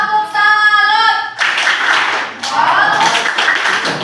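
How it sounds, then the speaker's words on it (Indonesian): A classroom group claps a patterned salute clap in unison, close and loud, with voices and chatter mixed in around the claps. "Tepuk salut buat diri kita sendiri yuk."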